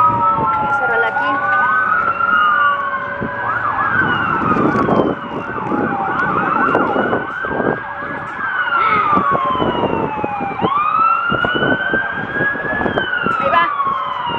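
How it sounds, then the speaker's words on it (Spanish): A loud fire truck siren wails, rising and falling repeatedly, close by, with vehicle engine rumble underneath and a voice speaking briefly. "La ambulancia. Ah, no, son los bomberos."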